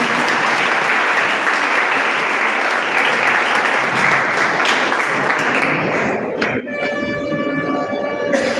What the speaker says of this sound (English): Give them a huge round of applause to them.